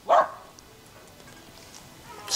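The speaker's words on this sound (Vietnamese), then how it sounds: "Nhưng mà tiếng chó là tuyệt vời đấy." A Bac Ha bobtail dog gives one loud, close bark right at the start, then only faint background hiss follows.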